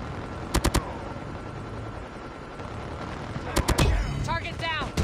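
Automated sentry gun firing in Call of Duty Mobile on the Shoot House map, short bursts of shots early on and again later, with game voice lines and effects over a steady background.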